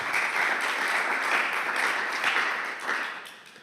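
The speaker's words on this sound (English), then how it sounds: "Thank you for the applause." Audience applause at a lecture on DAOs in the European Union, dense even clapping from a hall crowd that holds steady and then tapers off.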